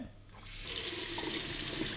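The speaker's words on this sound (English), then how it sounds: "We'll just go straight from the tap and just get hot. Hot. I'm just going to let it run for a bit." Hot water runs from a kitchen tap, starting as a soft trickle and swelling within a second into a steady, close, rushing stream that continues evenly, with no talk.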